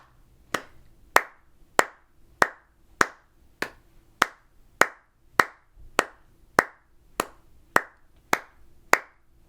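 Hands clap a steady, even beat, about fifteen sharp claps spaced evenly, loud and close, with no talking.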